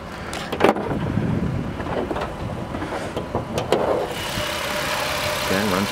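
A 3.8 liter V6 idles under the hood of a 2008 Jeep Wrangler X 4x4, a steady low rumble heard up close with some handling noise and brief clicks over the top.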